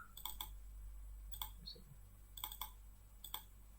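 Computer mouse buttons clicking at a desk, a few sharp close clicks in small pairs and singles spaced a second or so apart, quiet, over a low steady hum, with no speech.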